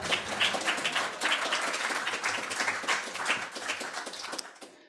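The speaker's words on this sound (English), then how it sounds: "It's okay to clap for readings." An audience clapping after a poetry reading at a Unitarian Universalist gathering: a dense, even wash of applause from many hands that holds steady and then tapers off at the end.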